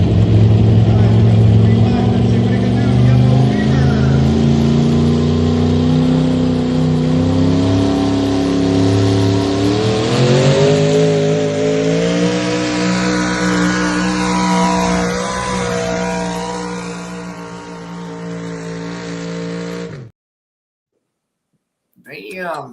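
Pulling truck with an 850 motor launching out of the gate, engine roaring loud and close then climbing in pitch as it pulls away, with crowd voices underneath before it cuts off.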